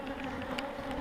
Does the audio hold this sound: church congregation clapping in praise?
no